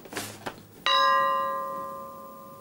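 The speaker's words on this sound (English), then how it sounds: "A bell." A single bell is struck once, ringing out loud and clear with a long, sustained tone that slowly fades, following a couple of faint knocks. It is heard in the setting of Prestwick Golf Club.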